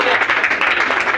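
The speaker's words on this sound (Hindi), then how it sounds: "ताली बजाने से बीपी सही रहता है। ताली बजाते रहो।" An audience claps steadily at a Constitution Day ceremony in Meerut honouring journalists, a dense, loud, continuous patter with a voice mixed in.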